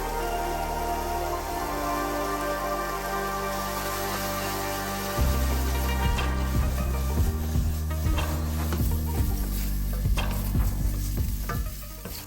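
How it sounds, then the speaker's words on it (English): Mushrooms fry steadily in a hot pan with a constant bright sizzle, while stirring scrapes and clicks grow busier partway through, loud and close with no talking. "when you're cooking these mushrooms, you get them nice and golden brown and to cook them down nicely"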